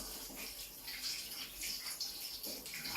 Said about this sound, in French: Et là, je me rince les doigts, forcément.